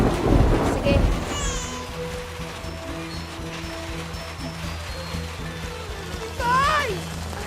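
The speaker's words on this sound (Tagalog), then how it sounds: "Lakas ng ulan" Heavy rain hisses steadily in a Filipino comedy film scene, opened by a deep rumble of thunder, with a second swell of noise and sound effects near the end.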